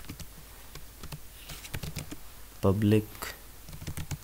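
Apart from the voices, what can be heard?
typing code on a computer keyboard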